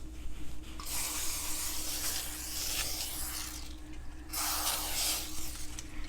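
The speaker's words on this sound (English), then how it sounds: "And now I'm going to get some cooking spray" Cooking spray from an aerosol can hissing onto a cake pan held over a kitchen sink, two close bursts with a brief pause between them over a low background hum.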